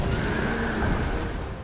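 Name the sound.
horse neighing in the video game Dark Souls 2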